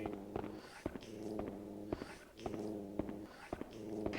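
A dog in the PS2 game Haunting Ground rumbles with a low, continuous growl, broken by sharp clicky transients every half second or so, close and steady throughout.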